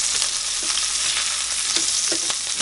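Canned potatoes fry in a pan with a steady, dense sizzle, broken by repeated scraping knocks as they are pushed around to keep them from sticking; close and continuous, no voices.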